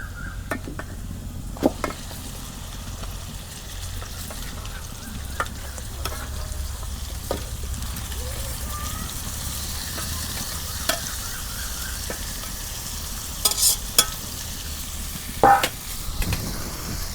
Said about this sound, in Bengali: এখন ভালো করে নাড়াচাড়া করে দিই।